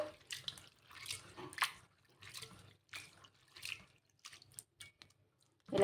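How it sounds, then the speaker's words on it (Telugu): Water splashes and trickles in short bursts as it is drained from washed poha, several separate pours and drips with quiet pauses between, close and fairly soft. "కడిగేసుకొని వాటర్ అంతా కూడా వంపేసుకోవాలి"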